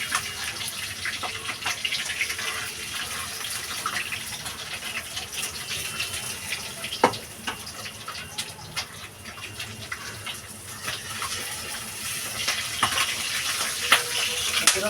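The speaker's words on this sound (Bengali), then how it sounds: "মাছগুলো অনেক ফুটছে" Gagra fish fries in hot oil in a pan, giving a steady, dense sizzling hiss that carries on without a break. Faint pops and small clinks sit close up within it.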